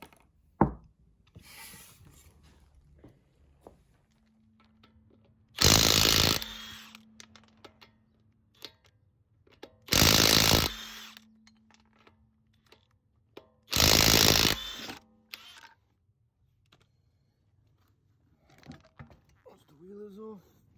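A power tool drives screws into the frame of a 2004 Acura TSX during an air suspension install, three loud bursts of whirring and ratcheting, each a second or so long, with quiet clinks and shuffling between them.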